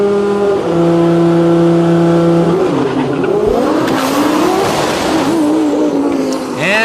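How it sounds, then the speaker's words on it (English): An Audi drag car at a DCT World Cup race launches hard, shifts from first to second and then bangs against the rev limiter. The engine is loud and close, with pitch rising and dropping and a stuttering limiter at the end. "the Audi running into some trouble just past the 60-foot mark as it made the 1-2 shift and then hit the rev limiter"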